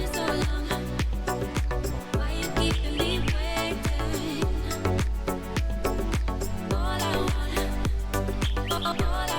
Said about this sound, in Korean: 와, 뭐 새소리